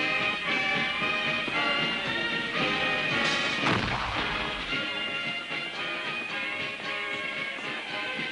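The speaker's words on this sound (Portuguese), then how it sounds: "o ponto alto das festividades do dia era uma exibição de ativos fogos de artifício" Loud, continuous crackle and booming of a Fourth of July fireworks display in New England, with a dense run of overlapping bursts and one heavier thump near the middle.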